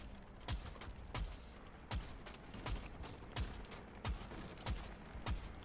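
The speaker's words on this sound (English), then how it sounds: "I've just shot rounds in there" Gunfire in Rainbow Six Siege rings out as roughly nine sharp, loud shots, spaced unevenly about half a second to a second apart over a steady background rumble, with no talking.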